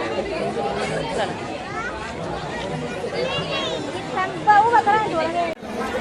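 Dense, continuous crowd chatter at a packed Khandoba temple fair in Satara, many overlapping voices close by with a brief louder burst near the end.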